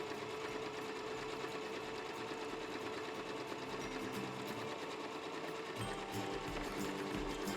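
A sewing machine runs steadily, stitching a seam on a fabric bag, its rapid mechanical whirr and needle clatter continuous and close for several seconds, with no voices.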